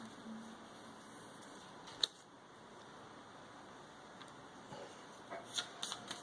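Cards from a board game threat deck are shuffled with faint, quiet riffles and soft taps spread through the stretch, one sharper snap partway in and a flurry of clicks near the end.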